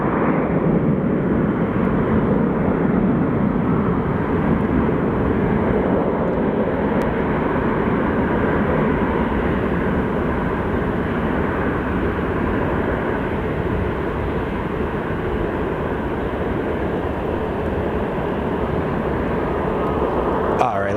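A small Embraer airliner shuttling between Phoenix and LAX rumbles at Phoenix Sky Harbor Airport, a loud, unbroken engine roar that holds steady for about twenty seconds, with voices blended into the noise.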